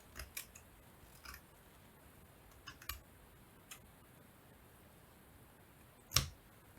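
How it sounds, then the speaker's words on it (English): Small, close scissor snips cut through yellow lace, a handful of quiet clicks spaced irregularly and ending in one firmer cut, over soft background hiss. "Some of the yellow lace might need a little snip just to lay flat."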